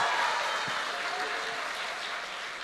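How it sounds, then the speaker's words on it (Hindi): Applause fills a TV studio during live coverage of a Chandrayaan moon landing, a dense and even wash of many clapping hands that carries on steadily, with a faint voice underneath. "स्टूडियो में भी ताली बज रही है।"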